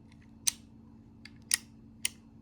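Sharp metallic clicks come close up and crisp as the hammer of a Denix Colt 1851 or 1860 replica percussion revolver is drawn back, three distinct clicks about half a second apart with a faint tick between the first two, in a quiet room.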